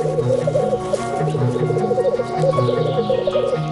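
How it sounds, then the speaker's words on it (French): Male black grouse coo in a continuous bubbling chorus during their courtship display in the Ural valleys, a steady rolling warble with no voices present. "Les mâles courtisent les femelles en émettant des roucoulements."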